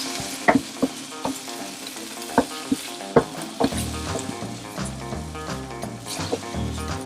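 Onions and vegetables with drained tomato sizzle and fry in a pan, a steady crackling hiss broken by sharp knocks and scrapes of a utensil stirring close by.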